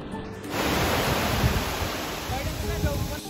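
Sea water and waves wash steadily at Butterfly Beach in Goa, a dense, continuous surf rushing close by for a few seconds with no break.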